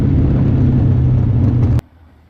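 USAC sprint cars revving on a single-file restart at Bloomington, a loud, steady low engine roar that holds for nearly two seconds and then cuts off abruptly into quiet.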